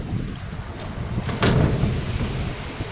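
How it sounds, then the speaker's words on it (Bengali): Strong wind roars through trees during a rainstorm in Saudi Arabia. The gusty rush is continuous, with a louder blast midway, and no one speaks. "গাছের দিকে তাকালে বুঝবেন কি পরিমাণে বাতাস"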